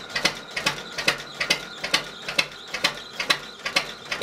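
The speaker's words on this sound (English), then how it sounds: "hear the V-belt, can't you?" An old engine's V-belt running steadily, giving a rapid, regular ticking-whirring rhythm of repeated pulses about four per second, close by, with no voices.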